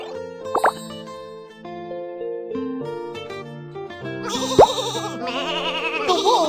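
Cartoonish video game sheep bleats sound over a light musical backdrop, with a plopping drip early on and several wavering bleats toward the end.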